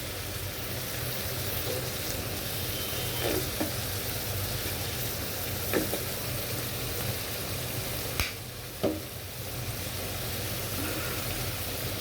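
Paneer with mixed vegetables, soy sauce and tomato sauce frying and being stirred in a pan, a steady low sizzle with a few sharp scrapes and clinks of the spatula scattered through.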